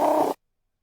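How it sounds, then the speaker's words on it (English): A friendly trill from a cat, one short rolling chirp that is close and clear and lasts about a third of a second before silence. "we have just another typical, very friendly trill. Sounds like this."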